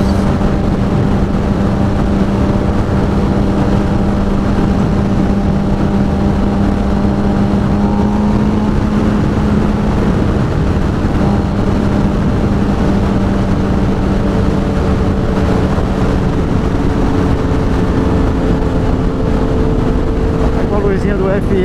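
Suzuki SRAD 750 motorcycle being ridden, its engine droning steadily and loudly throughout with a constant low hum and wind rush, the pitch shifting slightly as the throttle changes; a rider's voice may be faintly mixed in.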